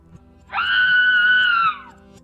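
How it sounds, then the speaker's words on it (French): One sustained, piercing scream rises sharply, holds for just over a second and then fades, loud and close, with no speech around it. "Pendant ce temps, Urgad, qui était concentré sur sa ligne, entendit un hurlement."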